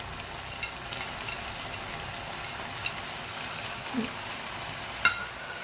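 Tofu stir-frying with pickled mustard greens, scallions and chili in a pan, a steady soft sizzle with occasional scraping stirs and small clinks, close and moderate in level, no talking.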